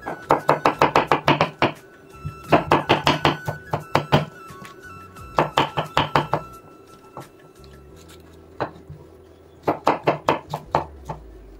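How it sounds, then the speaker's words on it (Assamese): A knife chops pineapple into small pieces on a board in quick, sharp bursts of five to eight strokes, with short pauses between the runs, close and clear, with no talking. "এতিয়া ইয়াৰ টান যিটো অংশ সেইটো কাটি পেলাই দিম বাকীখিনি মই সৰু সৰুকৈ কাটি"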